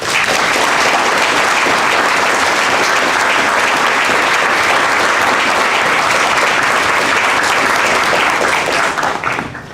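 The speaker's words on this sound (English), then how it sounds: "give them a big round of applause" A large audience at an international policy symposium breaks into loud, dense, continuous applause that holds steady and then begins to fade at the very end.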